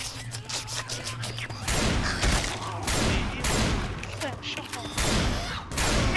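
Rapid gunfire crackles through a modded Left 4 Dead 2 game, short volleys of shots repeating loudly across the whole stretch over a low steady hum, with brief pauses between bursts.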